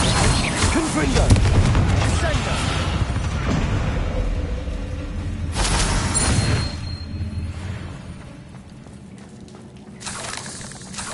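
Fire-spell blasts in the Hogwarts Legacy video game, booming explosions and rumbling impacts in a spider fight, loud and dense at first, then easing before another burst near the end, with voices mixed in.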